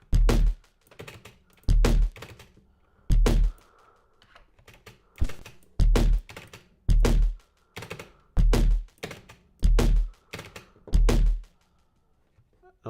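Clicky mechanical keyboard typing heard up close, with short loud bursts of keystrokes and quiet gaps between them repeating at a steady pace.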